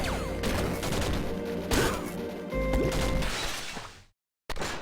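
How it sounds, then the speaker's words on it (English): A shotgun firing in the game Downwell, a dense rapid fusillade of crunchy blasts and crashing hits layered over game music, dropping out abruptly near the end before sound resumes. "Shotgun."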